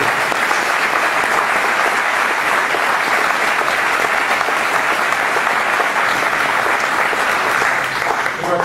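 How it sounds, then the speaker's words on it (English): Loud, dense audience applause for county clerk's office staff being recognized, a sustained steady wash of clapping that holds at full strength for the whole stretch. "please join me in a big round of applause for Belinda Honeycutt"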